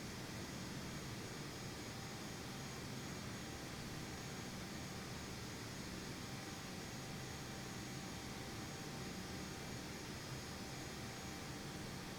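An airliner taxis in a flight simulator game, a steady, even jet engine whine and broadband roar running unbroken and constant throughout.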